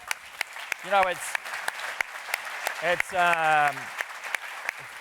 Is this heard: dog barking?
no